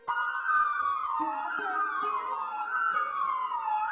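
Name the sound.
ambulance siren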